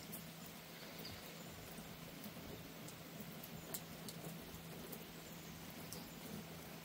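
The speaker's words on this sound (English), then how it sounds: "The rain on the water." Steady soft patter of rain falling on water beside a houseboat, a continuous fine crackle with a faint low hum underneath, no voices.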